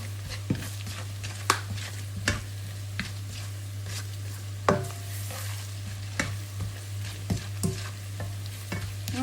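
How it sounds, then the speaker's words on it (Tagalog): Garlic and seafood fry in a pan with Old Bay seasoning, a steady close sizzle running throughout. A utensil scrapes and clicks against the pan in irregular stirring strokes, and no one talks. "Paghalo-haluin na natin."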